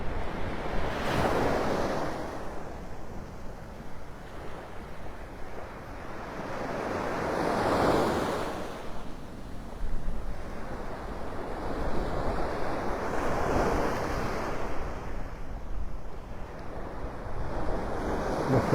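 Ocean surf at Vanderbilt Beach in Naples, Florida, as the tide goes out, with waves breaking and washing in slow repeated swells alongside steady wind noise.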